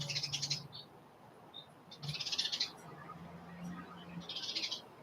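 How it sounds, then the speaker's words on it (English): Bright, high-pitched bird calls in three short bursts, separated by quiet pauses, over a soft background hum. "You hear a bird."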